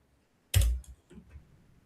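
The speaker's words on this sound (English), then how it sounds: "Oh, typing too fast." A quick burst of keystrokes on a computer keyboard while someone types instructions for a coding tool, loud and close at first, then a few softer taps trailing off, with no talking.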